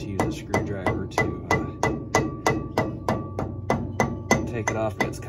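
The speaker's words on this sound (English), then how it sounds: "if it doesn't pop off with just kind of tapping on it around here" Repeated hammer taps on the grease cap of a Ford E150 van's front wheel hub, about twenty evenly spaced sharp metallic knocks, close and clear with no talk.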